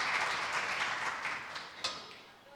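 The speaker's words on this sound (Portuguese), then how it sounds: "Palmas para ela, viu?" Audience applause at a lecture, a soft, steady wash of clapping that holds for a couple of seconds and fades slightly at the end, heard at a moderate distance with no talk.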